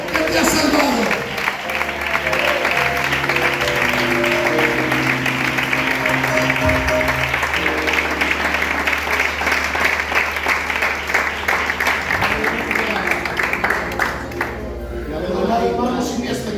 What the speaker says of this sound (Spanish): Dale un aplauso a Cristo que te ha salvado